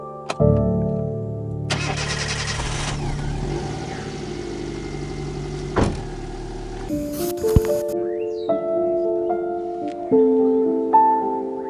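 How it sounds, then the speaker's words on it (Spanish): A Chevrolet Spark engine cranks and fires up with a brief starter grind, then settles into a steady mid-pitched idle with a few light revs, heard close in a workshop with no talk over it. "A ver, vamos a darle arranque."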